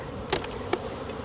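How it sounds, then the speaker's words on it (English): Worker honeybees at an opened backyard hive buzz in two brief, close passes, each a short whirring burst over a quiet background. "As you see, these are all girl bees, worker bees."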